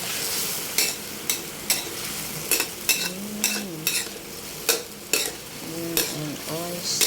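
Pumpkin stir-fried in a pan sizzles steadily, close and loud, with sharp spatula scrapes and clanks against the pan at irregular intervals throughout.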